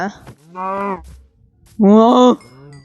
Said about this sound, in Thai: โอ้วัววัวจ๋าวัวจ๋า